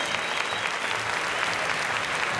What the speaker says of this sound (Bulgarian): Моля вашите заслужени аплодисменти и за Рангел Иванов, неговият достоен съперник.